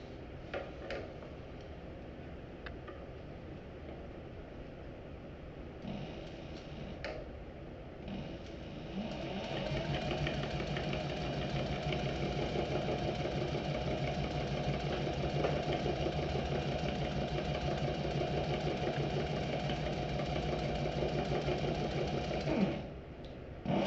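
A sewing machine stitches straight across the top of a backpack laptop pocket, along a rolled edge, running in a steady mechanical whir with an even ticking rhythm that picks up and holds for most of the stretch before stopping.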